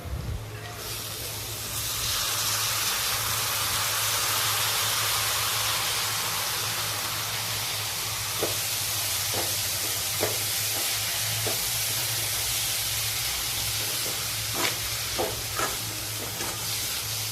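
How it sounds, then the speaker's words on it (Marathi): Sprouted moth beans tossed into spices in a hot pan, starting with a sudden loud burst of hissing sizzle that holds steady and continuous, with occasional light clicks of a spatula against the pan later on. "आता त्यामध्ये मी मोड आलेली मटकी टाकते"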